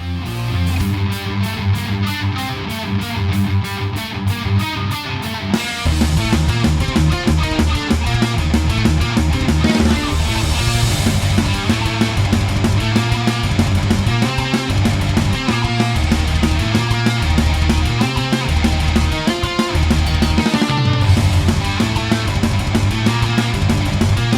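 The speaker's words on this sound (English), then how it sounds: "then we go into the next riffs and they sound" Heavy distorted metal guitar riffs from a song, loud and dense, starting with a tight palm-muted chugging pattern before a fuller, sustained riff section takes over with drums driving underneath.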